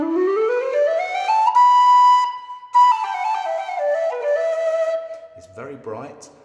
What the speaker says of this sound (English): It's a handmade wood headpiece on a brass body. It's a lovely whistle